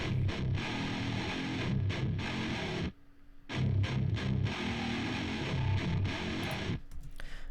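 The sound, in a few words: distorted guitars, left and right together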